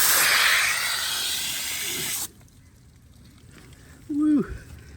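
Water sprays hard from a hose while flushing the coolant system of a CF Moto 400 ATV, a loud hissing burst lasting about two seconds that stops abruptly, followed by quiet and a short voice exclamation.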